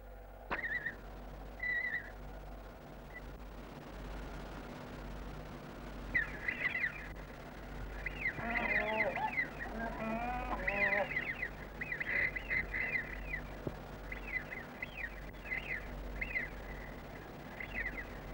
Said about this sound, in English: beneath the constant roar of the traffic, the ducks feed placidly